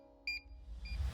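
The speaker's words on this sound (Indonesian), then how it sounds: "Jika unit pusat terus berbunyi dan berkedip, dan strobo horn berbunyi dan berkedip, ini berarti alarm tinggi." Two quick high-pitched electronic beeps from a LogiCO2 CO2 alarm central unit signalling a high alarm, followed by a fainter tone, over a low rumbling background.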